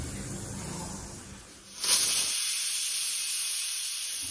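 Steam hissing from a pressure cooker boiling potatoes, a moderate hiss that suddenly swells into a sharper, brighter jet of escaping steam partway through, then holds steady.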